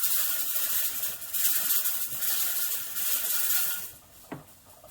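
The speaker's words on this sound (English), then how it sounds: "So you can see it, hear it now, the pressure's coming down." A pressure canner on a switched-off gas stove lets off pressure with a soft, steady hiss that fades out, followed by one brief faint click near the end.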